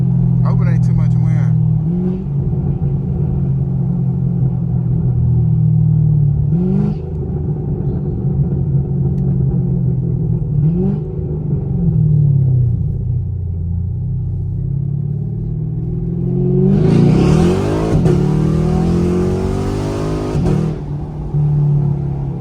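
A Chevrolet Camaro SS growls close by at a steady idle-like rumble, with several sharp rev blips for downshifts spaced a few seconds apart and a louder, rising rev surge near the end, with wind noise.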